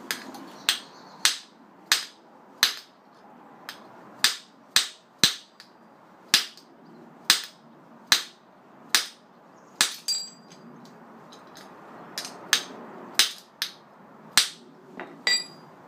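Sharp metallic strikes of a copper hammer on a seized rear wiper spindle of a BMW E91 318 touring ring out one after another in a steady rhythm, close and distinct, with short pauses between bursts of blows.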